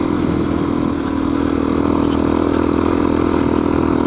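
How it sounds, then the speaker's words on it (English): A 1986 Yamaha 350 dirt bike rides through sand, its engine a steady, loud, close mid-pitched drone that holds without pause and gives no clear revs. "He's riding his dad's Yamaha 350 from 1986"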